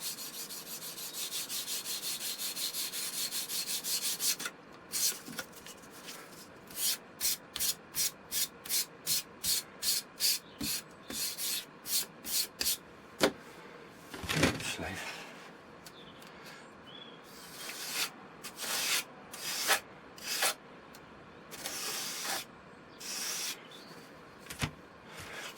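Lightweight sandpaper scrubs the wooden parts of a beginner's model glider, the Cadet. First comes a continuous rub, then a long run of quick regular back-and-forth strokes, then looser, irregular sanding passes, all close and quiet with no voices.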